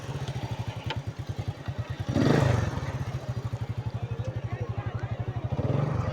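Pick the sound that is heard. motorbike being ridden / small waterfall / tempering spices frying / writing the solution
motorbike being ridden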